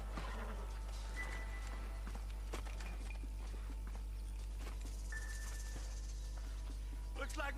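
Steady horse hoofbeats clip-clop under game music and ambient noise in Red Dead Redemption, with a brief whinny-like tone; the trotting stays moderately close and continuous.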